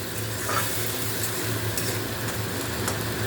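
Blended green chili paste is sautéed for egg curry, stirred in a hot pan with a constant close sizzle and soft scraping movements throughout, no voices heard.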